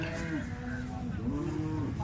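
A dairy cow of a high-yield breed on a farm near Loni gives a drawn-out, fairly close moo, heard alone over low background noise.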